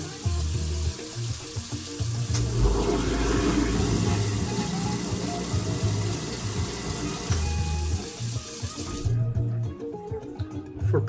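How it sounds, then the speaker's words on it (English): Water runs steadily from a kitchen tap while a cooking device is rinsed under it after making Nissin Big Soba Chili instant noodles, a constant splashing stream with light clatter, then cutting off near the end. "Rinsing out my device that I use."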